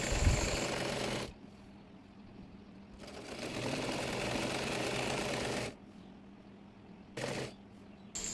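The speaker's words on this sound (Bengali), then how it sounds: "সাইড সেলাই করে নেব।" A sewing machine runs in bursts, stitching the side seam of a cotton petticoat, with loud continuous whirring runs separated by quieter pauses and a brief final burst, no voices.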